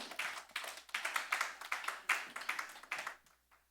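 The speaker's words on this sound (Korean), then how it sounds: "박수로 환영하겠습니다." A small church congregation claps to welcome a speaker, a quiet patter of individual hand claps in uneven bursts that fades out after a few seconds.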